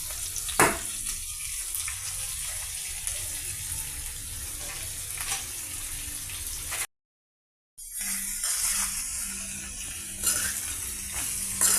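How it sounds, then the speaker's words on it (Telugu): Boiled potatoes, cooked with salt and a little turmeric, sizzle in a pan with a steady frying hiss and occasional stirring scrapes, broken by a short silent gap before the sizzling resumes. "ఈ బాయిల్డ్ ఆలుని మనం ఫ్రై చేస్తున్నామండి"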